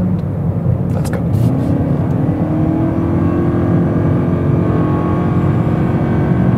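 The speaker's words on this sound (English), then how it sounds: "You maybe heard this is a typical CVT, the continuously variable transmission automatic acceleration" A Toyota Corolla with a CVT automatic accelerates hard in sport mode from 80 to 120 km/h. The engine drones at a steady, rising pitch inside the cabin, with no gear shifts, and wind and road noise run underneath.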